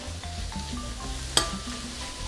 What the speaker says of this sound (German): Und ich drücke immer in der Pfanne das Fleisch, damit keine großen Klumpen sich bilden.